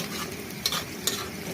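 Rohu fish roe frying in a pan, a steady close sizzle with a couple of soft clicks from stirring.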